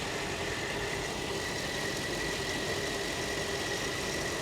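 A quiet car engine with air suspension idles at a salvage auction yard, giving a steady, faint, even hum with no speech.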